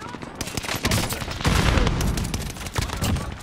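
Rapid automatic gunfire from a weapon in the shooter game Call of Duty Vanguard and Warzone, a loud sustained burst of dense shots with brief pauses, up close and continuous.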